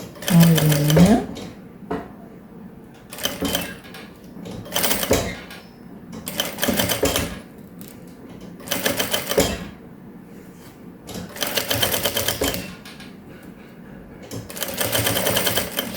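Sewing machine stitching a zipper onto a small pouch in bursts of steady mechanical whirring, each run a second or two long with pauses between, and a voice talking in the gaps.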